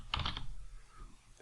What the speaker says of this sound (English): I will come in here and then we will type Marcello